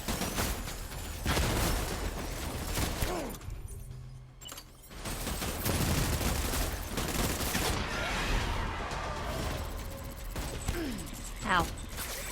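Enemy gunfire in a video game, a busy run of repeated shots and bursts firing at the player, loud and close, with someone talking over it.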